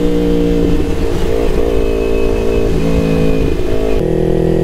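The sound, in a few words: motorcycle revving with R9 exhaust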